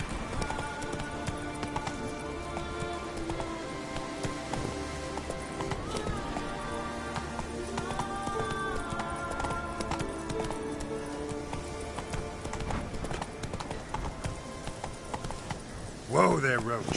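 Roach the horse gallops in The Witcher 3, with steady clip-clopping hooves running under game music, a brief whinny-like flourish near the end.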